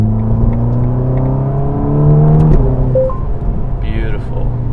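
A Ferrari Roma fitted with a particulate filter burbles and crackles as it downshifts, the engine note dropping through gears with a pop near the end, while a voice talks over it.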